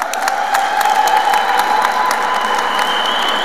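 Loud, steady applause from an audience at a Naturopathy Day celebration, dense clapping sustained throughout with sharp whistles rising above it.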